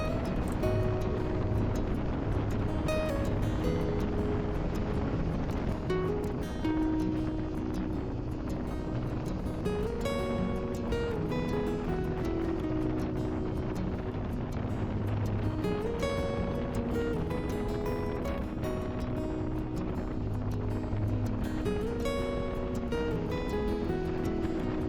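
Motorcycle riding along Highway 20 across Washington State, a steady engine drone with shifting harmonic tones as the throttle opens through a corner, continuous and fairly close, mixed with wind rush and no talking.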